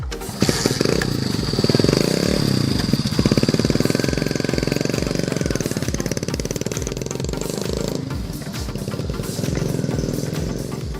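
A motorcycle engine runs steadily throughout, its rapid exhaust pulses loud and close, with a brief rev change partway through; no one talks over it.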